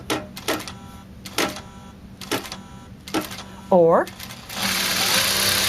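A Juki professional sewing machine run slowly, giving a few separate mechanical bursts of stitching with pauses between them and a steadier whirring run near the end. A person talks over it.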